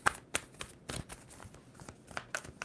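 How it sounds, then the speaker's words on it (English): A tarot card deck is shuffled by hand up close, a run of quick crisp riffling bursts and taps in an uneven rhythm, no voice. "2 more shuffles for Gemini."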